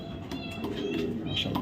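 A female racing pigeon coos softly nearby, low murmuring calls over quiet background noise.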